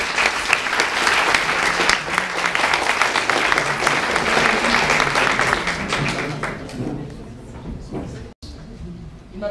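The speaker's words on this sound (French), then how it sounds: "Je vous demande de les applaudir très chaleureusement" Warm applause from a theatre audience at a speech finale greets performers invited on stage, dense and steady for several seconds before thinning out, with a few voices mixed in.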